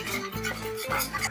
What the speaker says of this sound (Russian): Естественно, хорошенько все это дело перемешиваем.